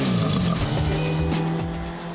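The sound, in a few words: 1966 Matra Djet 6 Gordini four-cylinder engine, raspy sound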